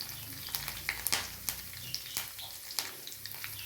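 Cloves and cinnamon frying in hot oil for brinjal curry, an even crackling sizzle with scattered sharp pops and spits heard close and without talk.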